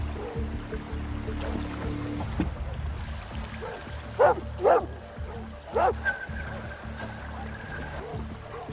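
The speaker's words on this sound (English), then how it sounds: "The incredibly sensitive hunting dogs continued to bark" Hunting dogs bark in a few sharp, separate bursts over a steady background of rushing water, with a faint whimpering yip between them.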